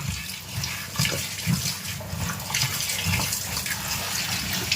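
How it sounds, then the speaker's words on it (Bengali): Cut potatoes washed under running tap water, a steady close splashing flow with irregular bursts of sloshing and handling as the pieces are rinsed. "তার আগে আলুটা একটু ধুলে নিই"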